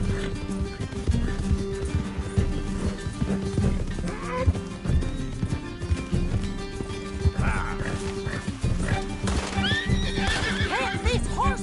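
Horses gallop in Red Dead Redemption 2, with fast clip-clop hoofbeats running throughout and repeated whinnies and neighs. Mixed with game music and effects, and voices speak over parts of it.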